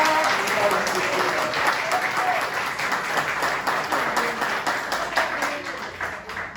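A church congregation applauds during a Portuguese sermon, loud and sustained clapping from many hands, dense and even throughout with a faint murmur of voices beneath.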